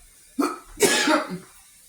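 A person coughs twice up close, a short cough followed by a longer, harsher one with some throat clearing.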